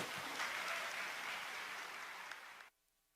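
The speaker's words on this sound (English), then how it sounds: "the little robots that are clapping like little dolls, like little robots" A large audience claps steadily at a religious gathering, a sustained, fairly quiet wash of applause that cuts off abruptly near the end.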